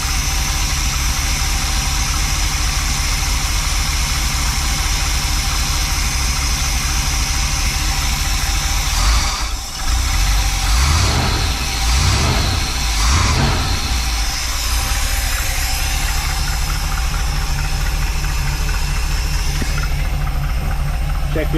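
A Mopar engine with a freshly rebuilt carburetor idles steadily and loud, then gets a few quick revs in the middle before settling back to a low idle.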